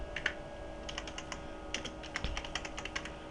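Computer keyboard typing in a quiet room, irregular soft clicky keystrokes in short bursts, close and faint over a low steady hum, no talk.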